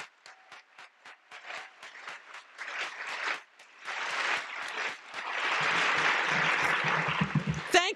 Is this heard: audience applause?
yes